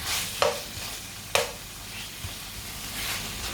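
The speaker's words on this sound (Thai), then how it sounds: "พัดเครื่องแกงหมูกรอบหมูทอดหมูปิ้งเนาะ" Fried pork stir-fried with curry paste in a pan, a steady broad sizzle with a couple of sharp scrapes and clacks from the utensil, close and without talk.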